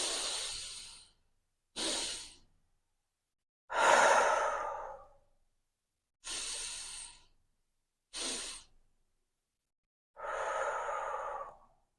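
Deep, slow breaths in and out during a menopause breathing exercise, six separate airy breaths with silent gaps between them, heard close and alone.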